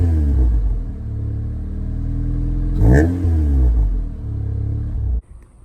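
A Honda Civic with a steel Flowmaster exhaust idles with a deep, throaty rumble, then gives one quick rev that rises and falls before settling back. The engine cuts off abruptly near the end.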